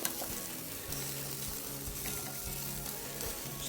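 Chicken wings sizzle and fry steadily on a hot BBQ plate, a soft continuous crackle with occasional scraping as pieces are flipped and pierced, heard up close without talk.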